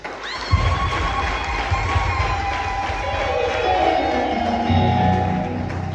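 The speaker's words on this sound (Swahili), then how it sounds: "tusikie makofi ya waumini peke yao" A church congregation applauds and cheers together, a dense, sustained roar of clapping and voices that stays steady and loud throughout, heard from within the crowd.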